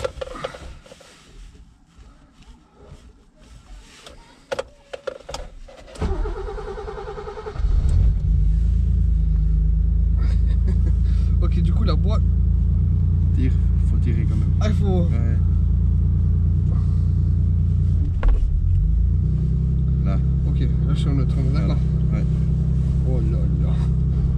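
A BMW E30 320 converted to a 32*i cranks, catches and settles into a loud, steady idle rumble, heard up close after some quiet handling noises, with people talking over it.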